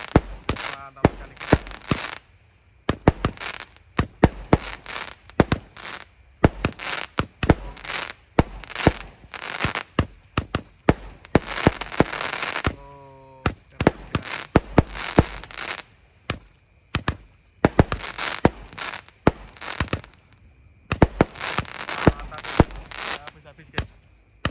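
Jumbo 48-shot Roman candle fireworks set off at night for New Year, firing a rapid irregular barrage of sharp pops and booms, loud and close, with whistling shots and voices between volleys.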